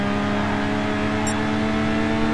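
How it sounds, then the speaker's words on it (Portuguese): A Renault Clio RS accelerates hard in the racing game Gran Turismo 6, a steady loud engine drone with sustained harmonic tones holding through the whole stretch, no talking. "Vou tentar sair acelerando o máximo que dá."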